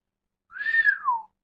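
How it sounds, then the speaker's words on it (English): A person whistles a single rising-then-falling note lasting under a second, clear and fairly close, with no other sound around it. "After a long search, Scotty whistled."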